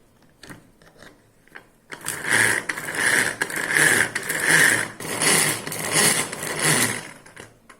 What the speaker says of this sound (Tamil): இதை இழுத்தோம்னா நம்ம இங்கே வந்து இது சுற்றும், அதனால இது சுற்றி அப்படியே வந்து நமக்கு சாப்பாய் ஈஸியாக சாப்பாய் வந்துடும்